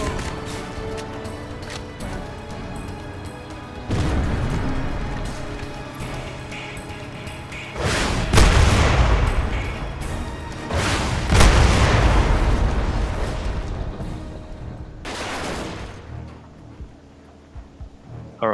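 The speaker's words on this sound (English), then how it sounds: "Alright, we even blew up the tank." A tank exploding in Crysis during a base assault, several heavy booming blasts with rumbling crashes and debris, loud and close, with scattered gunfire between the explosions.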